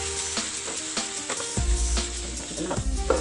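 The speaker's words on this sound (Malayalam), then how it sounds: "സവാള ഒന്ന് ഗോൾഡൻ കളറാവണ വരെ ഒന്ന് ഇളക്കി കൊടുക്കാം" Sliced onions sauté in oil in a pan while being stirred, a close steady sizzle broken by repeated scraping spatula strokes and low thuds against the pan.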